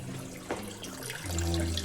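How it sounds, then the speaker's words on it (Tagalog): A water faucet running steadily into a container at close range, fairly soft, the flow shifting near the end as the tap is turned. "Turn off natin tong ano, gripo."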